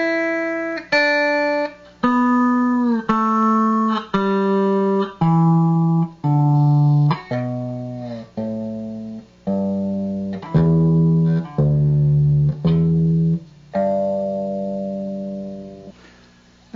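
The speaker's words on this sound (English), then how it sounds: "Here's the scale with the slide." Slide guitar plays a scale note by note with a slide, descending from the low D on the sixth string, each tone gliding slightly and ringing clearly alone at a steady, close pace.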